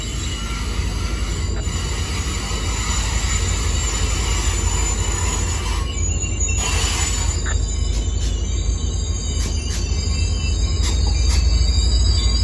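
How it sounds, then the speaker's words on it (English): An Amtrak Capitol Corridor passenger train rumbles past close by at San Jose, a steady broadband roar with occasional metallic clicks and squeals from the wheels, no voices. "That's a train."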